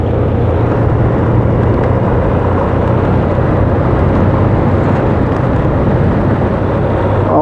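A Honda Transalp motorcycle engine drones loud and close, a dense steady roar that holds through the whole stretch, with no talk over it.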